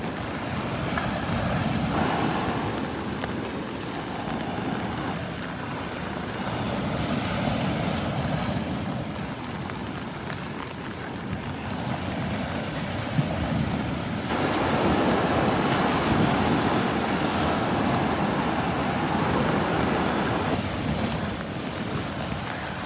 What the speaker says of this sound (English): Some good waves breaking here.